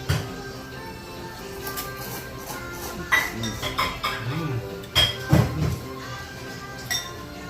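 Ramen bowls or glasses clinked together in a toast over dinner, a few sharp bright chinks among clattering dishes and cutlery, with people talking quietly underneath.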